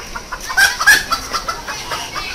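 A chicken at a zoo clucks repeatedly in quick, uneven bursts, fairly loud and close over a steady outdoor background, with no one talking.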